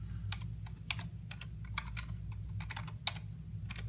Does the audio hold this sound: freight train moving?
no